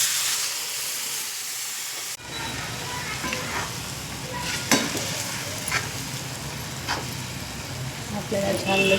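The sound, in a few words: sprouted mung beans added to spiced oil, stirred and sizzling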